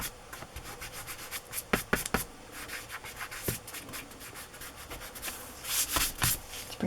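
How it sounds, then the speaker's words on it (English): Steady fingertip rubbing over a glued journal cover to clear excess glue, soft close scuffing strokes with a few sharper brushes, quiet and continuous. "Got a little excess glue coming out, so I'm trying to rub it off."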